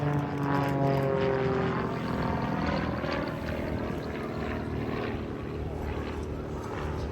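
A Grob Tutor propeller trainer flies an aerobatic display at RAF Cosford, its engine drone swelling and shifting in pitch through the loop, moderately distant and steady with no talk.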